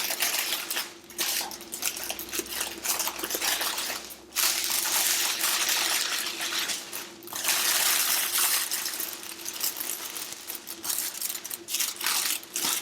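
Cellophane wrap crinkling and crackling as it is folded around a Dollar Tree Valentine's Day candy tray, a close, continuous rustle with brief pauses, no talking.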